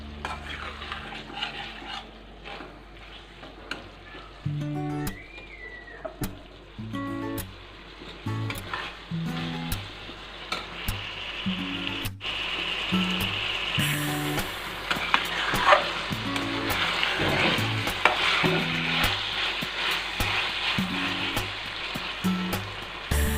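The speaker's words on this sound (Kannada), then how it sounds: "ಇದನ್ನು ನೀಟಾಗಿ ಮಿಕ್ಸ್ ಮಾಡಿ ಒಂದು 2 3 ನಿಮಿಷ ಕುಕ್ ಮಾಡಿದ್ರೆ ಸಾಕು." A spoon stirring tamarind juice mixture for vangi bath in a pan on the stove, repeated scraping strokes against the metal over a soft, building sizzle, close and continuous with no talk.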